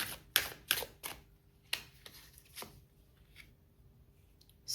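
A tarot deck being handled as a card is drawn: several crisp, close snaps and flicks in quick succession, then softer scattered rustles in a quiet room.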